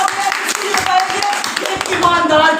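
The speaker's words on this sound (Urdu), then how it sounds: "تالیاں." A church congregation claps during a thanksgiving prayer service, a dense, sustained round of applause close and loud while voices speak and call out over it.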